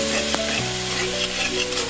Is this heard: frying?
yes